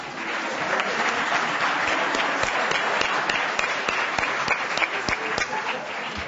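Audience applause for a raffle winner at a gathering, a sustained round of clapping with distinct individual claps standing out near the microphone and faint crowd murmur underneath.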